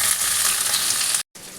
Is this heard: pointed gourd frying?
yes